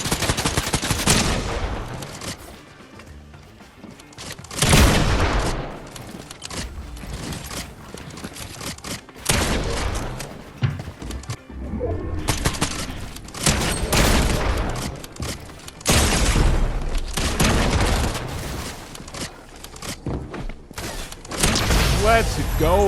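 Bursts of rapid pump shotgun blasts and other gunfire during a late-match Fortnite fight on console, loud, clustered shots with mechanical clicks between volleys, over game effects.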